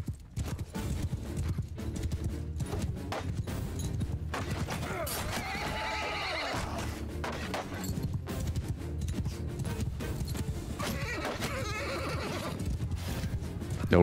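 A horse neighs and whinnies in Mount & Blade II Bannerlord, a loud rising-and-falling whinny near the middle of a dense battle soundscape with clattering hooves and constant combat noise throughout.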